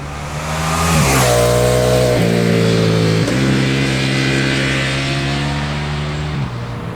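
A 2025 Ducati XDiavel V4 motorcycle's V4 Granturismo engine revs hard and accelerates through several gear shifts, loud and close, with a rising then stepping drone.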